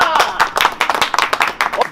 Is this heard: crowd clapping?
yes